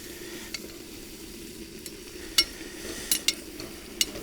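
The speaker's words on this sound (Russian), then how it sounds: "мяско уже начало желтеть, то есть обжаривается" Meat for plov fries in hot oil with a steady close sizzle, broken by several sharp scrapes and clinks as a utensil stirs the pan.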